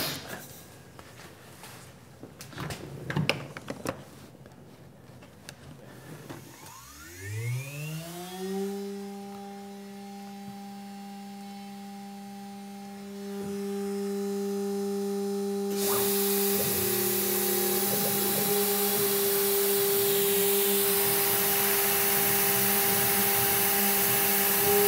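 A machine engraving tool steel for a chuck key starts with a rising whine, then settles into a steady, loud tonal hum. A broadband hiss joins about halfway through and continues, and there is no talking.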